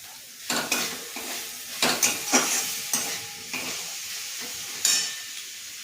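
Mustard and poppy seed paste frying in a pan, with water going in, for a Bengali shrimp and bottle gourd greens dish: a steady close sizzle broken by repeated scraping and clanking stirring strokes, no voices.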